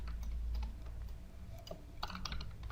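Close typing on a computer keyboard, uneven bursts of light clicking keystrokes with a short pause in the middle and a quick flurry toward the end.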